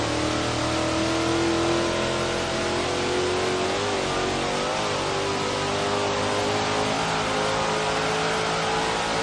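A car races in Forza Horizon 3, its engine droning loud and steady from start to finish, pitch slowly rising and falling as it accelerates, with no voices over it.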